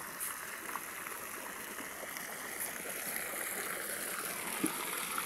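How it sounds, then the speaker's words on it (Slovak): Water sprays and rushes steadily outdoors, a dense continuous hiss close by with no talk. "Striekala voda."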